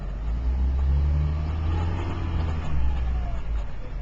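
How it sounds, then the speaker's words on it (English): A 2006 Dodge diesel pickup fitted with a Mopar exhaust brake runs at low speed, a deep droning engine rumble that swells and shifts as the brake engages when the throttle is released, no talk. "as soon as you let your foot off the pedal, the brake will try to kick in"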